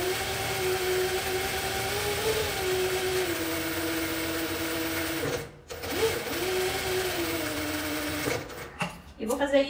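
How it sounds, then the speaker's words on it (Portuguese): Sewing machine stitching around a fabric flower petal, a steady close whirring hum that briefly stops, restarts, and falters again near the end. "E vem costurando em volta dela toda."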